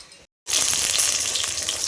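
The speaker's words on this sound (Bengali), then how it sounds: "এই যে এখন মাছগুলো ভাজছি" Fish frying in a pan in a home kitchen: after a brief silent gap, a loud, dense sizzle crackles steadily up close.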